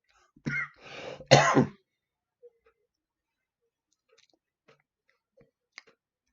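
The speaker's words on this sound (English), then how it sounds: "Excuse the coughing." A couple of short, harsh coughs or throat clearings close by, then near silence with faint scattered clicks.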